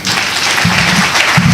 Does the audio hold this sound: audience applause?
yes